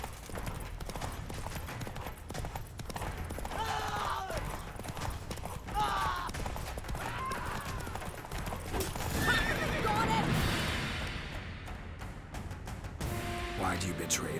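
Roach the horse in a video game whinnies several times over steady, rapid hoof clopping, with game voices talking and background music beneath.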